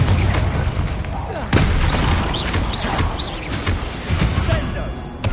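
Confringo blasting spells exploding in the Hogwarts Legacy video game, a string of booming blasts and crashes over busy combat noise, with a voice calling out spells.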